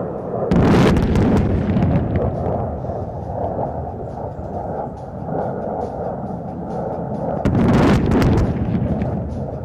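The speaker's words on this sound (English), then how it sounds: "What an impact! The enemy's runway has been severely damaged." Bombs dropped by Su-30 jets hit a runway target during an Indian Air Force firepower demonstration at Pokhran, two heavy booming blasts several seconds apart with a long rumbling roar and wind noise between them.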